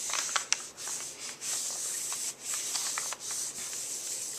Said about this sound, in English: I'm going to use my hands and I'm going to rub.